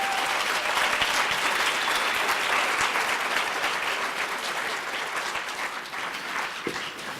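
An audience applauds to welcome speaker Frank Ostaseski, a full, steady wash of clapping that holds strong throughout and only eases slightly near the end.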